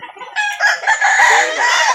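A rooster crows loudly and close by, one long, strained call with a ragged, wavering tone.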